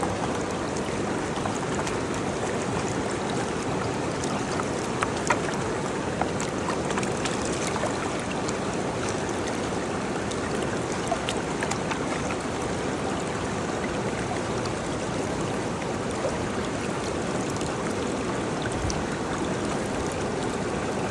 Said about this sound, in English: and now I'm gonna pan it out.